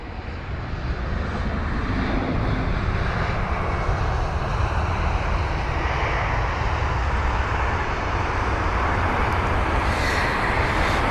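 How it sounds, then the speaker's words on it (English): Aer Lingus Airbus A320neo landing at Heathrow, a sustained loud jet roar with a steady, even rumble that holds close for the whole stretch, no talk over it. "It's an A320neo for this Aer Lingus."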